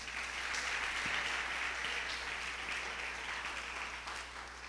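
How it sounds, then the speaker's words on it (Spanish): Church congregation applauding during a sermon, a dense, steady wash of clapping from a crowd that holds evenly and tapers slightly at the end. "Denle un aplauso al Señor."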